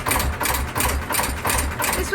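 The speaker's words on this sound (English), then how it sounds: "That is a Petter engine." A vintage 1950s Petter engine runs aboard a narrowboat fuel boat, a loud, close, steady low thumping with an even rhythm and a faint metallic clatter above it.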